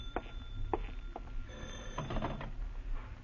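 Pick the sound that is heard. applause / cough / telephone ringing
telephone ringing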